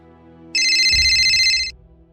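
A phone ringtone chimes once for an incoming call, a short, bright electronic tone lasting about a second, clear and alone.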